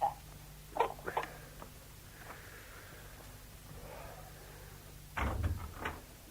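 A door in a radio drama shuts with a couple of soft knocks near the start, followed by quiet room tone and a firmer, nearby thud of the door closing toward the end.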